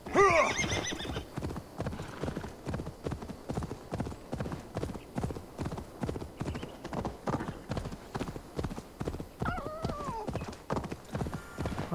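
In Assassin's Creed Valhalla a horse gallops in a fast, even beat of close hoofbeats lasting throughout, with a whinny at the start and another neigh near the end.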